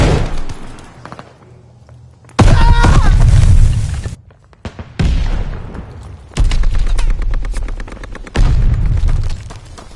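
Heavy explosions from a grenade in a video game: loud booming bursts strike around two and a half, six and a half and eight and a half seconds, each with a rumbling tail, along with shouted voices and other combat noise.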